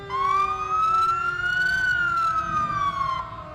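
A new fire and rescue truck at a veterans parade sounds its siren, one long rising and falling electronic wail held loud and close for about three seconds over low street rumble.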